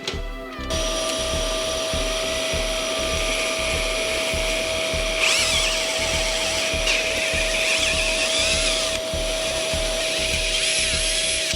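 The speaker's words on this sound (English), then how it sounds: "I have my vacuum at the ready." A vacuum cleaner's steady droning whine runs throughout, with a rhythmic low pulsing and a high tone, humming loudly nearby with no voices.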